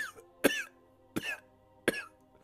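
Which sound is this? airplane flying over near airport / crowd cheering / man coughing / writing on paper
man coughing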